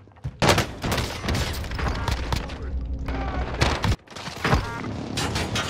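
Rapid bursts of gunfire crack close and loud in a chaotic firefight, several volleys overlapping with a short gap before more shots ring out, while a voice is audible underneath.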